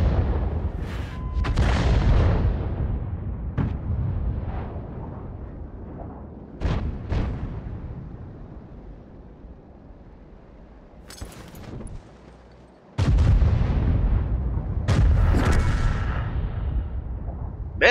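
Heavy tank cannon and artillery fire in World of Tanks: several loud, booming blasts with long rumbling decay, separated by quieter stretches and ending in a cluster of close explosions.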